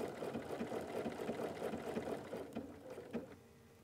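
A Bernina 750 sewing machine stitches through fabric while appliquéing, giving a steady, fast mechanical whir with a rhythmic needle patter close by, slowing briefly near the end.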